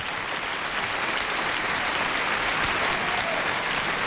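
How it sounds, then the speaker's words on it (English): A Lincoln Center theater audience applauds the orchestra at a concert staging of Passion, a continuous, full, even roar of clapping heard alone without voices. "And they all applaud the orchestra."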